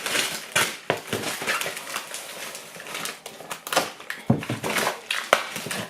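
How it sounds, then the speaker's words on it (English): Titanium-coated scissors cut open a cardboard box: a run of sharp crunching snips and rasping tears, irregular and close, with short pauses between strokes and no voices. "even with these titanium coated scissors I'm having a struggle."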